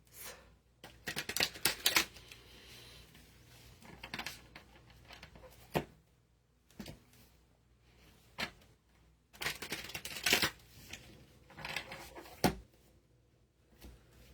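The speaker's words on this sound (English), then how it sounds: "I'm going to give these cards a good shuffle." Tarot cards are shuffled by hand in quiet bursts of soft riffling and slapping, with pauses between bouts, close and fairly faint.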